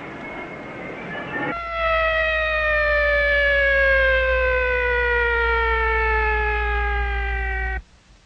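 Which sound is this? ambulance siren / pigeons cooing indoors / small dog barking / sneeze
ambulance siren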